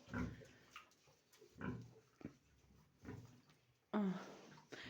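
Several short, low piglet grunts come in bursts spaced about a second apart, with a louder snort near the end, fairly close and quiet overall.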